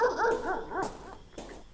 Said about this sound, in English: Just a dog.